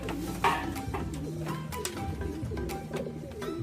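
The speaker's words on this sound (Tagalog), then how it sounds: "Umuwi ng maaga ng ibon natin" A pigeon coos repeatedly in soft, low calls, nearby over a steady background hum.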